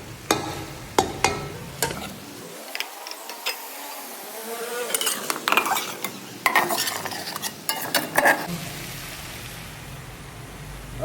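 Chicken pieces being mixed with two eggs and gram flour in a bowl for pakora, heard as clinking utensil scrapes and irregular wet stirring taps, close and moderately loud with no talk.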